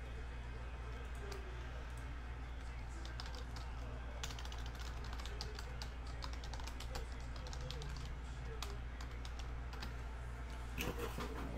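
Computer keyboard typing in a rapid, uneven run of close, light key clicks over a low steady hum, with quiet talk in the background.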